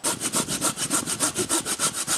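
A folding saw cuts through wood in about a dozen steady, evenly spaced rasping strokes, close and loud with no talk.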